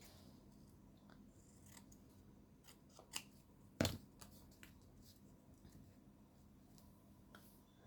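Scissors snipping through paper for a collage on a craft board, a few soft, quiet cuts with one sharper, louder snip near the middle, set against faint background rustle.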